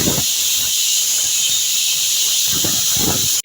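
A pressure cooker vents a loud, continuous hiss of steam while cooking vegetable biryani in a home kitchen, with faint low clatter beneath the steady rush.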